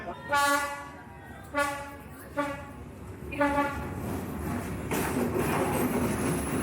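A night train to Lao Cai, Vietnam sounds a series of loud horn toots, one long blast followed by several shorter ones, before a steady rumble of rolling carriages and track noise takes over.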